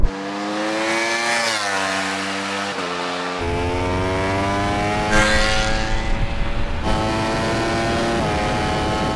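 A Ducati motorcycle in a drag race against an Audi RS, its engine note rising through the gears and dropping sharply at each shift, loud and sustained with a steady engine whine throughout.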